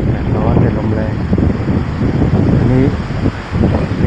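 A strong wind sweeps across open grassland, buffeting the microphone with loud, continuous rumbling gusts, while someone talks over it throughout.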